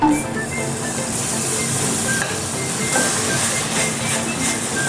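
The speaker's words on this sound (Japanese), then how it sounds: "フライパンが温まってきたら肉を炒める" Meat stir-frying in a heated frying pan for Korean japchae gives a steady, loud hiss and sizzle throughout, with faint scraping clinks now and then.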